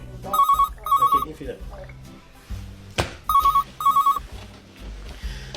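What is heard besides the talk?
telephone ringing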